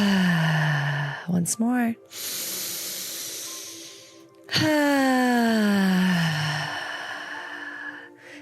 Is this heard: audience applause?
no